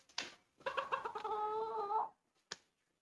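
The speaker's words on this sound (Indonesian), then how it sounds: "kalian pasti pernah melihat ayam Bantam Cocin ini ada di halaman rumah Chef Renata Muluk" A Bantam Cochin chicken gives a short cluck, then a drawn-out, wavering cackle lasting over a second, followed by a single sharp cluck after a pause; close and clear in a quiet yard.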